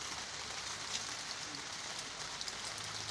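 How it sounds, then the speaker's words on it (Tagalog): Rain falls outdoors in a soft, even hiss of patter, faint and continuous throughout, with no talking. "Inabot na po kami ng ulan"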